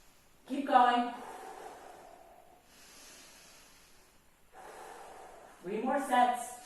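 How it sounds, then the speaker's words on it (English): Heavy, effortful breathing during a flutter-kick workout: a sharp gasping inhale, a long exhale, faint airy breaths, then another loud gasping breath, all close to the mic. "Breathing in and out."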